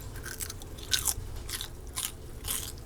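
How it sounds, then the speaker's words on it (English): A crispy fried pork chop is bitten into, giving a few sharp close-up crunches followed by lighter crackly chewing, with no talking. "Can you hear that crunch?"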